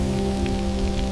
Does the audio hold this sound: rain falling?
yes